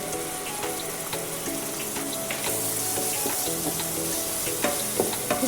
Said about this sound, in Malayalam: ഇതിൻ്റെ അകത്തേക്ക് ഒരു തക്കാളി ചെറുതാക്കി മുറിച്ചതിടുന്നുണ്ട്